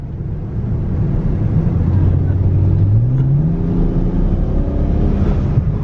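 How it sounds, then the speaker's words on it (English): A BMW with a tuned twin-turbo V6 accelerates in automatic mode, its engine drone climbing steadily in pitch while a rising turbo whine spools up over the loud, close exhaust rumble. "Oh, you can hear the turbo spooling up."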